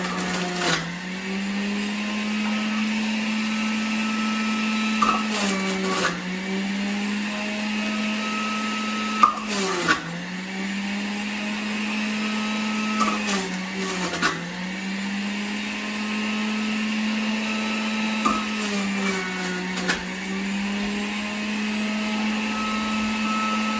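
An electric juicer motor hums steadily and loudly while carrots are fed in, its pitch dipping briefly under load every few seconds, with small clunks from the chute and no voices.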